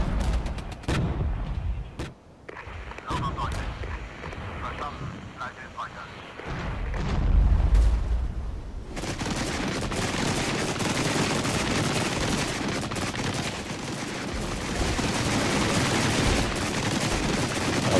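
A rocket artillery strike in the real-time strategy game Regiments sets off a rapid roar of launches and impacts that builds into a dense, sustained barrage, with someone talking over the start of it.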